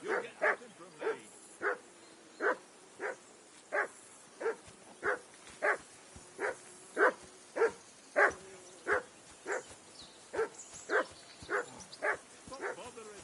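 A dog barks in Kingdom Come: Deliverance II, about twenty evenly spaced woofs in a steady rhythm, fairly close and clear over a quiet background.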